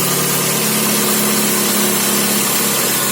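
Air-cooled VW Beetle engine idling on choke as it warms up, giving a steady, close, loud mechanical drone with an even, slightly rough throb and no talking.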